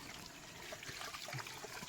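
A faint, soft trickle of natural spring water with small bubbling gurgles, steady and low in level.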